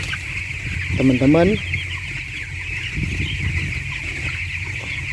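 Chickens aged one to thirteen days in a coop, a brief burst of clucking calls rising early on, then scattered cheeps over a constant fan-like hum, with a voice speaking at the start.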